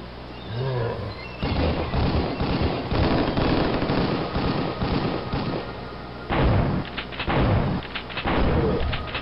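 Pump-action shotgun fired in the video game Last Rites / Killing Time, heavy booming blasts repeated in dense clusters over a rumbling background, loud and close, without speech.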